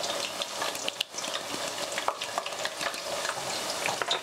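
Spices such as cumin and black pepper stirred and frying in a pan, a close, continuous sizzle broken by frequent scraping strokes of a spoon against the pan, with no talk.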